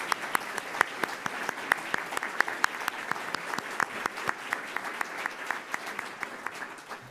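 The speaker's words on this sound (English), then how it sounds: "Let's give them a round of applause." Audience applause for a panel at a Columbus Metropolitan Club forum on Hyperloop transportation, a steady run of many hands clapping at moderate distance, sustained evenly for about seven seconds with no talk over it.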